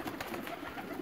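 A Sialkoti pigeon gives a brief, faint burst of soft, throaty cooing close at hand.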